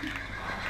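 A horse in the Minecraft video game gives a short, loud, breathy neigh-like whinny lasting under a second, with no talking over it.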